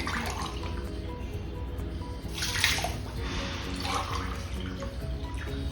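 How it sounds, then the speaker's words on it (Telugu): Water runs steadily into a pan of sugar for syrup for several seconds with a few louder splashing surges, close by and without any talking. "గ్లాసున్నర నీళ్ళు వేసుకున్నాం"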